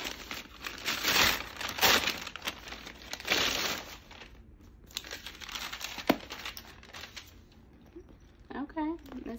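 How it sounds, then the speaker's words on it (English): Loud crinkling and rustling of stiff paper bag material in bursts, handled close up, with a few quieter pauses between. "Sorry for the noise, this is actually that paper bag material."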